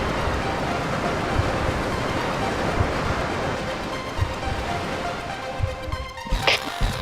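A game waterfall mixed with FMOD roars as a steady, broad rush of falling water, loud and close, with a few brief knocks near the end.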